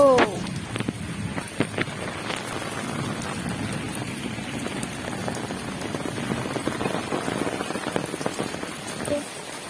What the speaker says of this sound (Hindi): केते जोर से वर्षा होची देखंतु सबुआड़े पानी है